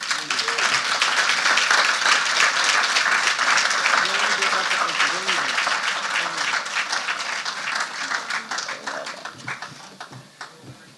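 An audience at a Jamaican creative writing competition and exhibition claps loudly for a reader, dense applause that gradually thins and fades, with voices talking over it.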